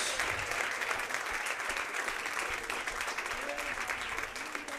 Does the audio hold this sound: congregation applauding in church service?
yes